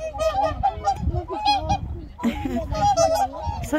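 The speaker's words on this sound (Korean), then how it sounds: "우리 철새들이 와서 이렇게 사는 곳이군요." Migratory geese wintering on the water honk loudly and continuously, many overlapping calls from a dense nearby flock, with faint voices mixed in.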